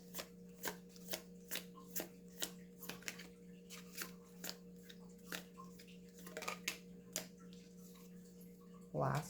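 Tarot cards are shuffled and drawn with repeated crisp riffling snaps in a steady rhythm, quiet and close, over a faint constant hum.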